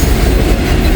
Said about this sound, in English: full auto rack train here. Every single one of these auto racks is full.